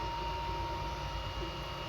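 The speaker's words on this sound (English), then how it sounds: "Everything is really smooth, no noise from the motors, as you can hear, only the damn fan." Cooling fan in the power supply of an Anycubic i3 Mega 3D printer running during a print, giving a steady close whirring hum with a faint tonal whine and no breaks.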